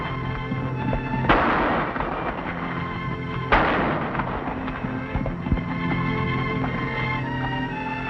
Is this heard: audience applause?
no